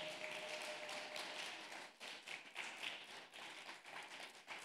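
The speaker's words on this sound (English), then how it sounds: "Please give a clap of offering to him" A church congregation at a Sunday service claps to honour an elder, a steady, fairly faint patter of many hands continuing throughout with small surges and dips.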